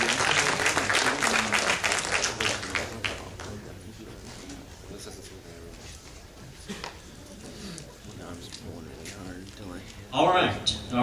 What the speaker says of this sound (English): Jeff and everybody with the Mothman Festival a great big round of applause.